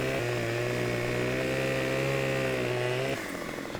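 A chainsaw in Farming Simulator 2015 cuts through a log with a steady, loud, close engine whine that runs for about three seconds, then drops abruptly to a rougher idle.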